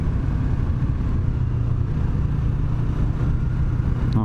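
A 2017 Yamaha YZF-R3 motorcycle engine idles with a steady, close, low rumble that holds even throughout, with no talking.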